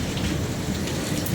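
Heavy rain falls steadily in a dense, even hiss of drops striking surfaces, close and continuous.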